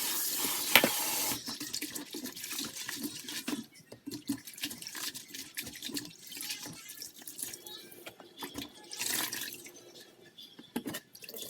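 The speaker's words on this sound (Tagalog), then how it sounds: "Hugasan ko yan maigi, guys, para mawala yung dilaw-dilaw niya." Dried banana blossom is washed by hand under a running kitchen tap, water splashing and streaming into a sink with irregular sloshes and drips, close and moderately quiet.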